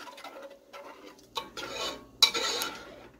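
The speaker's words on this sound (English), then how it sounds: "So I'm going to keep stirring this up a little bit longer" A spoon stirs and clinks against a container of milk and vinegar as curds form, with a few sharp taps and short wet scraping bursts close by and separated by quiet gaps.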